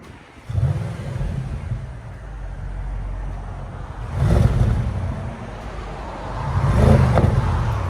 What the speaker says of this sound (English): Wide body S7 Audi. This is what it sounds like before.